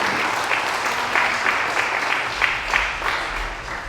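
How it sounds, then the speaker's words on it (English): Sustained audience applause for candidates at a district debate held at a Colombian restaurant, a dense, even wash of many hands clapping at steady loudness throughout. "Let's give them a round of applause"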